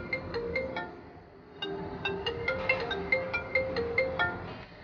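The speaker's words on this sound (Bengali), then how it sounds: "হঠাৎ করেই শান্তর ফোনটা বেজে ওঠে।" A mobile phone ringtone plays a bright, repeating melodic pattern of chiming notes, fairly faint and alone, with a short pause before the tune resumes.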